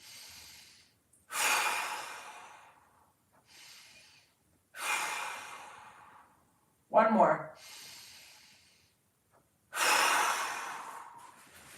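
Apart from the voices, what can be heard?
deep breathing during mobility exercise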